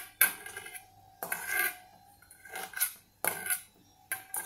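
Roasted tomatoes being chopped into small pieces inside a dish, heard as four separate bursts of clattering knife-on-dish scraping and tapping, fairly close, with short pauses between them and no talking.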